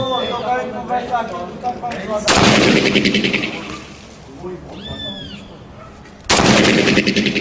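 Two sharp, very loud 7.62 rifle shots ring out several seconds apart, with voices and noisy commotion between them.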